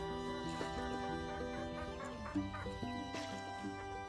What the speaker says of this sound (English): The ducks are happy now.